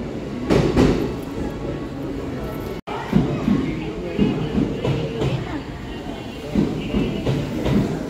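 Kintetsu express train bound for Nara pulling into a station platform, a steady rumbling roll with clattering wheels throughout, people talking nearby over it.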